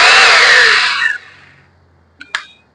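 A Powertex 26 rotary hammer in normal drilling mode whirs loudly and steadily for about a second, then cuts off, followed by a brief clatter of the tool being handled.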